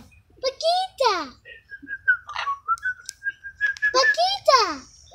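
Talking parrot at Sunken Gardens whistles a long steady tone through the middle, bracketed by sharp squawky chatter and voice-like bursts at start and end, close and clear over faint low background hum.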